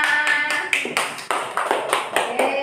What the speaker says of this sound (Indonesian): tepuk tangan untuk Mbak Tina.